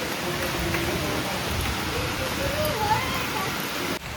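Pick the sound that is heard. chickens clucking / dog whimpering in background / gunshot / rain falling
rain falling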